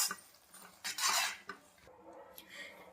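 A bowl is set down and handled among utensils while eggs are prepared for egg Maggi masala, giving a few close clattering clinks of dishes and metal cutlery in short bursts, with no speech.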